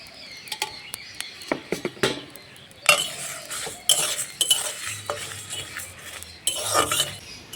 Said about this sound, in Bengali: মশলাগুলোকে আমি 5 মিনিট সময় নিয়ে ভেজে নিলাম।